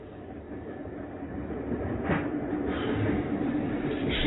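A slow train rumbles along toward Dartmoor, a dense continuous rattle and roar of carriages on rails, steady and fairly loud throughout with faint clanks and no talk.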